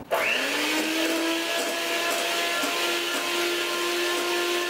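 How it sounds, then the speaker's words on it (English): An electric hand mixer whips mashed potatoes with butter in a bowl, its motor starting abruptly and then holding a loud, steady whine for the full length with no talking. "I'm going to use a hand mixer"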